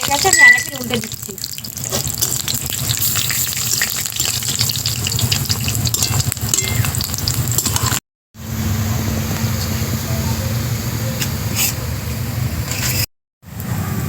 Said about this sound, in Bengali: একটি বড়া ভাজা হয়ে গেছে, আমি আরেকটি উল্টে দিচ্ছি।